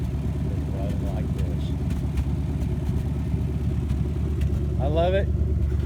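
A car engine running steadily after a tune-up with new plugs, wires, fresh oil and fresh gas, a constant low rumble throughout with someone talking over it.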